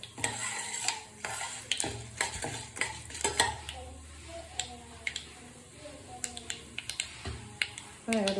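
Urad dal frying in a pan for vazhapindi thoran, with repeated scraping stirs and clinks of a spoon against the metal over a soft sizzle, close and rhythmic, with faint voice in the background.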